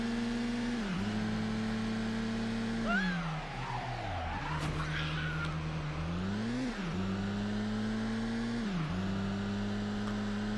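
Racing car engine in the PS2 video game Midnight Club II, loosely modelled on a Honda S2000, droning loudly and steadily, with its pitch climbing and dropping through repeated gear changes and a brief skid in the middle.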